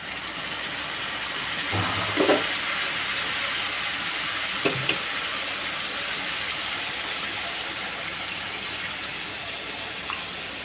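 Water splashes into a pan of beef curry cooked with chui jhal, giving a steady broad hiss with a few louder splashing bursts early on and a continuous rushing sizzle that stays even and close throughout.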